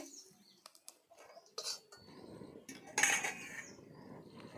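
Peanuts and green chillies roast in oil in a pan, with a soft sizzle beneath sharp metallic clinks and scrapes of a spoon stirring against the pan.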